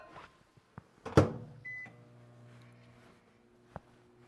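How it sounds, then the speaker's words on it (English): A microwave oven melting caramel for no-bake Christmas candy, with a door clunk, a brief beep and a low steady hum running underneath, plus a few small kitchen knocks. "I'm going to melt my caramel in the microwave"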